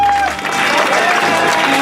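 A wedding congregation at a church service claps and cheers together, a dense, loud wash of hands and voices with a sustained tonal hum beneath, continuous through the moment.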